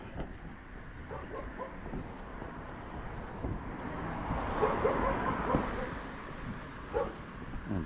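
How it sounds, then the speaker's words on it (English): A dog barks and yips at a distance during an outdoor walk in Maine, the sharp calls rising above a steady background rumble of wind and footsteps, with a faint passing aircraft-like drone. "Barking dog."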